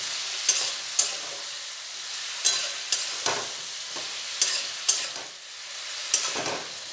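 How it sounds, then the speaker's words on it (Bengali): Vegetables with salt and turmeric powder frying in a pan, a soft steady sizzle broken by sharp scrapes and clinks of stirring every second or so, close up with no voices. "দিয়ে সবজিগুলো খুব ভালোভাবে ভেজে নেব।"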